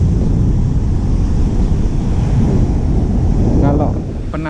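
Waves and wind at Pasir Putih beach in Blitar make a loud, continuous roar of surf and gusting air buffeting the microphone, with a voice briefly audible near the end.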